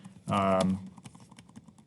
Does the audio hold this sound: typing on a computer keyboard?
yes